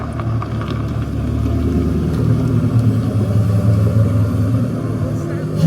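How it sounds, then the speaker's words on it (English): A Koenigsegg CCX hypercar arrives at a concours gathering with a low, rumbling engine idle that swells slightly near the end, heard close by beneath people talking. "So the Koenigsegg CCX is getting parked up."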